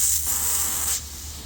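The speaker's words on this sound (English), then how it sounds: "I can actually get almost 3 gallons a minute of flow out of this hose" A steady, forceful hiss of water spraying at almost 3 gallons a minute from a pressurized hose on an 8-gallon firefighting tank car, loud and close, easing slightly near the end.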